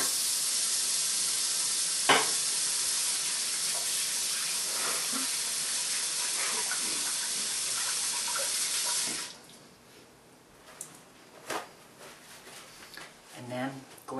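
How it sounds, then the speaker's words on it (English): Water from a kitchen tap runs steadily in a broad hiss for about nine seconds while hands are washed, then shuts off, leaving quieter handling clatter and a few soft knocks. "Give our hands a little wash."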